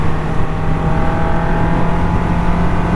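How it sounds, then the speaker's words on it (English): An MV Agusta 750 Brutale motorcycle engine runs loud and close, giving a continuous, steady revving drone that holds one pitch with no pauses. "it makes that beautiful noise when you twist the throttle"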